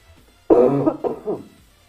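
A single rough, throaty cough followed by a shorter second cough, close and loud, with no talking.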